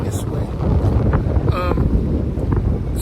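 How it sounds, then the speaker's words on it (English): Wind buffets a microphone outdoors on a breezy morning, a constant loud low rumble filling the whole stretch, with brief faint voice-like sounds mixed in. "it's a little windy out here today"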